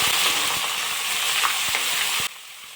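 Chopped onions hiss and crackle steadily as they fry in oil seasoned with mace, a dense close sizzle with small stirring knocks, cutting off abruptly near the end.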